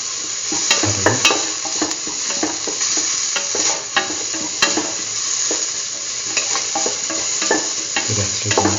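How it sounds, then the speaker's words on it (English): Tomato pieces are sauteed in a pan with an even sizzle beneath repeated clicking and scraping of a utensil, close and fairly loud, and no talk. "The rest of the mixture. Keep on sauteing."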